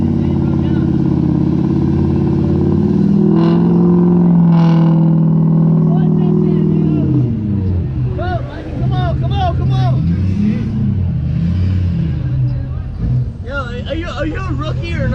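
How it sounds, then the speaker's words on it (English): A Jeep Gladiator engine revs and pulls hard during an off-road flex test, loud and continuous, its pitch rising and falling under several people shouting and talking. "Give it some throttle."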